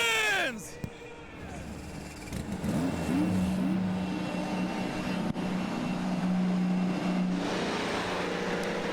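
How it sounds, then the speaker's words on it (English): IndyCar race car engines fire up on the grid at Barber Motorsports Park for the Honda Indy Grand Prix of Alabama, a loud dense roar of many engines idling and revving together, with crowd noise and a broadcast announcer talking over it. "Engines are fired."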